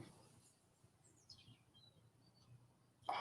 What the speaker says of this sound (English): just sitting and listening to the bird song.